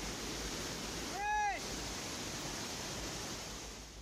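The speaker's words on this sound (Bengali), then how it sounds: "কি সুন্দর জল পড়তেছে আপনি দেখলেই বুঝতে পারছেন।" Water pours down a wooded hillside at Jaflong, a steady broadband rush that holds level throughout, with a brief whistling tone rising and fading midway.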